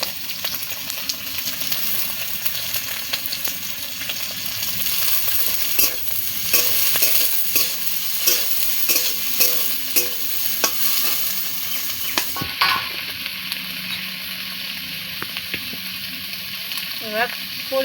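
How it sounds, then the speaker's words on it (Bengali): Prawn heads frying with onions in a pan give a continuous close sizzle, with stirring scrapes and clinks running throughout and no voices. "এবার চিংড়ি মাছের মাথাগুলো দিয়ে দেবো, কেননা এইগুলো ওর সাথেই ভাজতে হবে"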